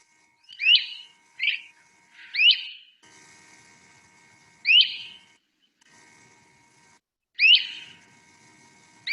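Great crested flycatcher calls in woodland: five loud, clear rising whistled notes in irregular bursts, three close together then two spaced apart, over a faint steady background hum.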